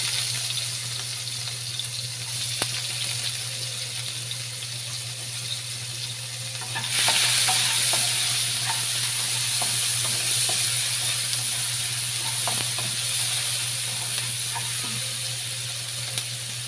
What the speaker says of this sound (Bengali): এখন আমি রান্না করবো, দিয়ে দিলাম পেস্ট কিছু